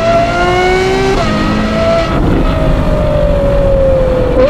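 A Ferrari 812 GTS fitted with a Novitec exhaust revs its engine loud and close, the pitch climbing, dipping at a gear change, then climbing again in a steady, raspy roar.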